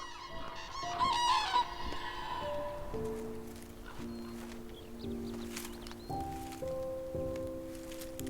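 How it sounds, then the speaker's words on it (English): Cranes calling in a Scandinavian forest in spring, a series of bugling, honking trumpet calls with drawn-out tones, fairly faint and distant against quiet woodland ambience. "when the cranes get back from their holidays down south. The sound of spring in Scandinavia's forests."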